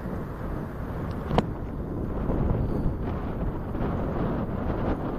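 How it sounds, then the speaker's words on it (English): Wind rushes steadily over a riverside bike path on a Saturday afternoon, a continuous low buffeting roar against the microphone, loud and close, with a brief faint click near the start and no talk. "Ah, the wind."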